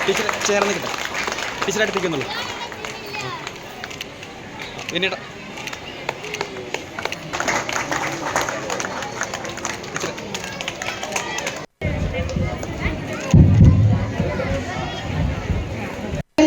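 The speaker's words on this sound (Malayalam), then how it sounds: "സദസ്സിലിരിക്കുന്ന വേദിയിലിരിക്കുന്ന എല്ലാവരും തന്നെ കൈയടിക്കേണ്ടതാണ്" An audience at an award ceremony honoring former teachers claps in a dense, sustained patter, with crowd murmur mixed in, pausing briefly before resuming as a louder burst of applause.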